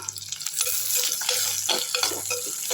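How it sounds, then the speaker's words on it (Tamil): Onions sizzle and crackle in a hot pan on a gas stove while a utensil stirs and scrapes intermittently, close and moderately loud. "நல்லா வதக்கி விட்டுக்கலாம் கொஞ்ச நேரம் வதங்கட்டும்"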